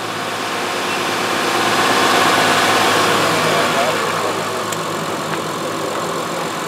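Tractor or car engine idling steadily as a battery charging test is set up, a continuous low rumble with broadband hum, close and fairly loud, with people talking over it.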